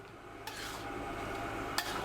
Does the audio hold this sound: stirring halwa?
yes